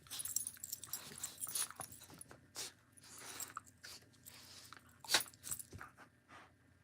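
Two dogs chew close by, their teeth crunching and biting in irregular, quiet bursts with scattered clicks between, and no one talks.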